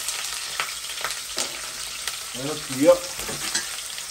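Onion fries in hot oil with a quiet, crackly sizzle, punctuated by several soft stirring knocks and a brief louder scrape near the end.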